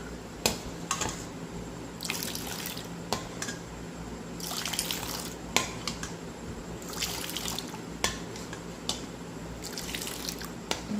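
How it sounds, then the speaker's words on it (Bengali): Warm sweetened milk being whisked by hand until frothy for homemade curd, producing close, quiet liquid splashing and dripping with periodic sharper clinks and swishes in an irregular rhythm, no talking. "দুধটাকে এভাবে ফেটিয়ে নিলে দুধটা বেশ ফেনা ফেনা হবে"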